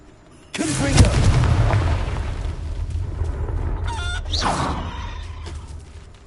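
A Confringo fire blast spell in a wizard video game bursts in loudly, a sudden roaring blast followed by sustained crackling rumble, with a second whooshing flare partway through.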